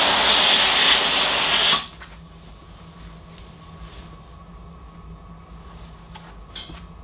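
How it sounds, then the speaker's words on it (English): A Tefal Pro Express Protect GV9230 high-pressure steam generator iron lets out a loud, close burst of steam hiss for about two seconds, then cuts off abruptly to a quiet room. "there is a noticeable change in the amount of steam the iron gives out on the normal setting"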